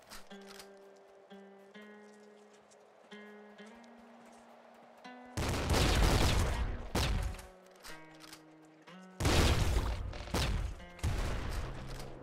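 Scattering flak cannon shots in a co-op video game: two loud bursts of rapid booming fire, close and dense, cutting in over a quieter electronic game tune.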